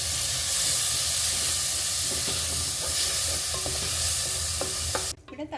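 Onion and tomato sauté in a pan for a Kerala-style breadfruit curry, giving a steady close sizzle and hiss with soft scraping stirs, ending abruptly with a few clattering knocks.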